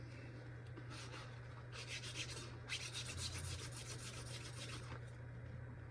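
A magic eraser rubs the contact pads of a PS2 memory card in short, close scrubbing bursts that come and go over a faint steady hum.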